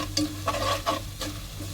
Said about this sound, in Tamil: நல்லா ஒரு தடவை மிக்ஸ் பண்ணிவிட்டு